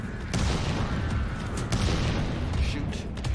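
Continuous heavy rumble of grenade launcher explosions and booming fire in a video game, dense and loud throughout, with a player's voice talking over it.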